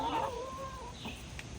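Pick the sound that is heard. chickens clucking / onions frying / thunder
chickens clucking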